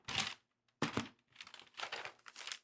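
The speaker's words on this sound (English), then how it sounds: "If you hear the paper rustling on the audio, you know it's been a big day" Close, dry paper rustling and crinkling as a page is handled and turned, in several short bursts separated by brief silences.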